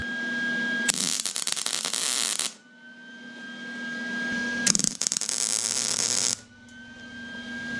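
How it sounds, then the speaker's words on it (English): Welder fusing a cylinder holder onto a welding cart, producing two loud, sustained bursts of crackling, buzzing arc sound, each lasting a couple of seconds, with a steady hum and a faint whine between them and no talk. "I'm going to weld this sucker in right now."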